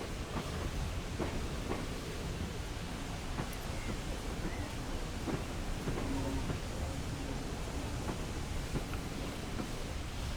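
An HST high-speed train runs steadily in Train Simulator, a continuous broadband rumble of wheels and engine with faint clicks of rail joints, sustained and fairly loud for the whole stretch.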